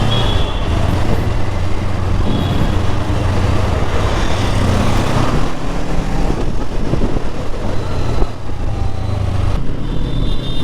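A 2024 Yamaha R3 motorcycle being ridden, its engine droning steadily up close with heavy wind and road rush throughout, no voices.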